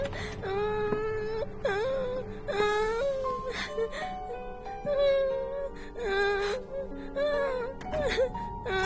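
In a French-language drama, a person cries close by in long wailing sobs with shaky, rising and falling moans, almost without a break.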